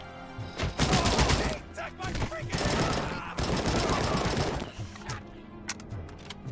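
Rapid bursts of AK rifle fire in Robocop: Rogue City, dense and loud, with sustained automatic volleys and scattered impacts before tapering into a few isolated shots, with voices mixed in.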